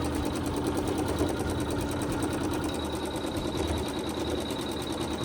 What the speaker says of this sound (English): stitching around the outside perimeter to hold all that fabric in place